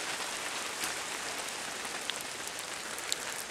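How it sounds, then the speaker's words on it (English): Hard rain pours steadily outdoors during an arrowhead hunt, a dense, even hiss of drops hitting the ground with a few sharper nearby taps, with no voices. "I'm about to get rained out here. It's 9:01. It's coming down pretty hard."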